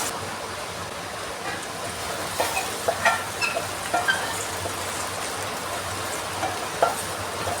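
Green chillies and curry leaves are stirred into okra pachadi with faint, scattered scrapes and clicks over a steady, even sizzle, quiet and unbroken, with no talking.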